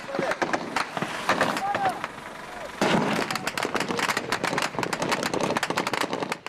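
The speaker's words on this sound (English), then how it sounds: "The incoming round sounded like Chinese firecrackers as they broke the sound barrier." Rapid cracks of incoming gunfire in irregular bursts during fighting against the Taliban, sharp and loud, with shouting voices in between.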